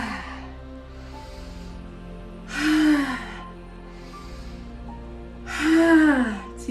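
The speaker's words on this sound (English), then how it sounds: "exhale through the mouth" Two slow, audible breaths are pushed out through the mouth in a quiet meditation setting, each a soft, breathy rush lasting about a second, with calm ambient tones behind.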